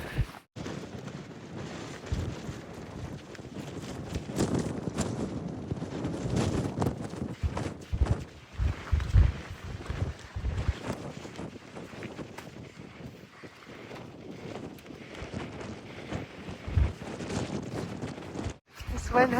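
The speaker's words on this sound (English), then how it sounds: "This wind has to be gusting over 40." Strong wind gusts over 40 roar across the microphone on a White Mountains hiking trail, buffeting and surging unevenly with a few brief dropouts throughout.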